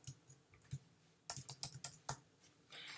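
Keys tapped on a computer keyboard in a short, uneven run of close, crisp clicks, a few isolated presses followed by a quicker cluster, with no voice present.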